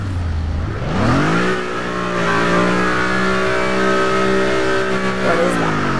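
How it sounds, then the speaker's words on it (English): An Audi RS5 Coupe engine in the racing game Test Drive Unlimited 2 revs up from idle into a sustained, loud, buzzing drone that holds a steady pitch, then eases off slightly near the end. "the Audi RS5 Coupe. And it's nice, but its engine sounds horrible"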